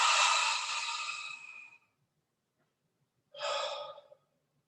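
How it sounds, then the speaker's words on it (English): Two deliberate, forceful breaths, close and clear: a long audible exhale that fades out, a pause of near silence, then a shorter breath. "A big breath in. And this deliberate, forceful breath out."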